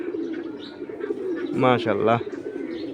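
Several male pigeons coo nearby around a single female in a loft, repeating throaty cooing calls that swell in the middle of the clip. Someone speaks briefly over the birds.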